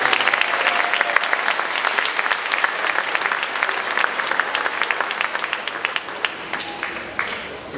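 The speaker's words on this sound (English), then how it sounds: "Big round of applause." A crowd at a baseball team's awards ceremony gives a sustained round of applause, many hands clapping densely and evenly before tapering off at the end.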